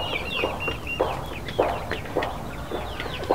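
Breeding hens from a flock of about thirty clucking close by, with repeated short, uneven calls and murmurs, no talk over them.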